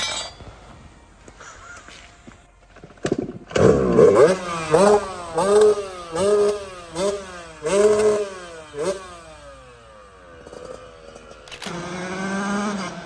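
A Yamaha YZ 125 motocross motorcycle engine revs up and down again and again, its pitch rising and falling in quick surges, fairly close, before a pause and one more rev.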